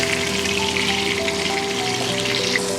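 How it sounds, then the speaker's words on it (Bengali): Pabda fish sizzle and crackle steadily in hot oil in a pan, a dense, close frying hiss that holds at an even level with no voices. "বাকি তেলে এই মাছগুলো আমি ভেজে নেব।"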